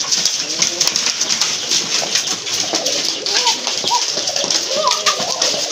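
Indian Lotan pigeons cooing at close range, soft repeated low coos amid rustling and background chatter from people nearby.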